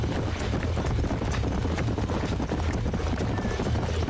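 Horse hooves clip-clopping in Red Dead Redemption, a dense, steady patter of several horses running together, loud and close throughout with no talk over it.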